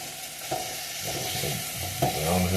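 Ground beef browning in a pan, a continuous sizzle with a few scraping stirs, near and unbroken by talk.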